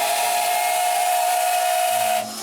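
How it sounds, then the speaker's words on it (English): A steam locomotive's whistle blows one loud, sustained, close-up blast with a steady shrill tone that cuts off abruptly at the end, with no talking. "So give us a blast on the whistle."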